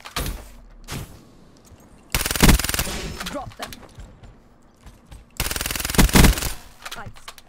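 Automatic gunfire from Call of Duty: Black Ops 3 multiplayer, two long loud bursts of rapid shots separated by quieter thuds and a few single shots.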